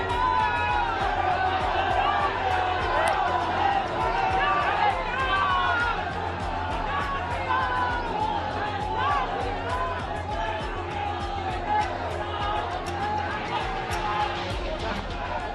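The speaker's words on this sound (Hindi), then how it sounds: "आसपास खड़ी भक्तों की टोली जय श्री राम के नारे लगा रही थी" A packed crowd of devotees chants Jai Shri Ram slogans at a crowded airport as the preacher Dhirendra Shastri pushes through. Loud, dense, unbroken crowd roar and babble with shouted voices carries steadily from start to finish.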